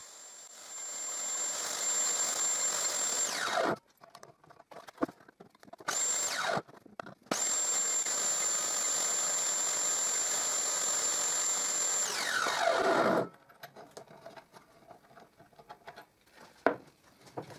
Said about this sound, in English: And I do the same to cut the mortises in the part of the box that goes below the lid.